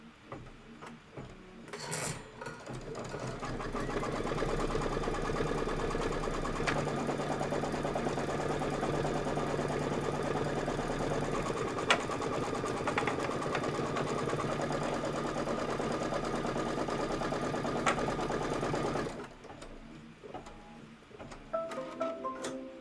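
An embroidery sewing machine stitching the background tack-down of a quilted Kimberbell Cup of Cheer design, a steady fast mechanical hum and rattle running nearly twenty seconds before stopping, with a few faint clicks at the start and end.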